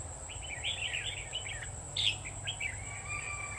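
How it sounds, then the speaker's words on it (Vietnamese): A red-whiskered bulbul sings in a tree just overhead, sending lively bursts of high, chirpy whistled phrases over a soft bed of insect buzz and outdoor hum. "Ô, con nào hót ngay trên đầu ấy tao."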